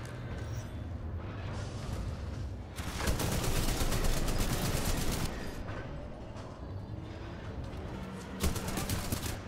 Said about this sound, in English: It's also very dangerous because of all the people who are shooting at me.